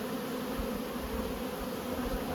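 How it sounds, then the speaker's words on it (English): Honeybees buzz steadily inside a five-frame nucleus hive being transferred into a nine-frame box, a dense, continuous droning hum that stays close and even throughout with no talking. "plenty of bees in here"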